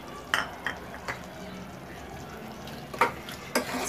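Keema masala with tomatoes gets stirred in a pan: a few scattered scrapes and clinks of the spoon over a faint, low background.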